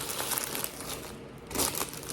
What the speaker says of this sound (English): cellophane wrap.